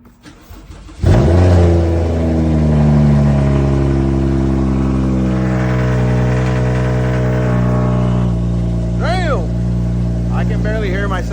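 A BMW's engine starts after an oil change and settles into a loud, steady idle close by, with a few rising revs near the end.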